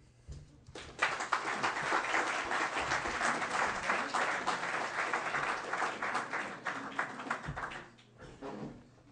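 An audience at a policy talk on closing the Indian Point Energy Center breaks into applause, a full burst of many clapping hands that swells quickly, holds steady for several seconds, then thins out into a few scattered claps.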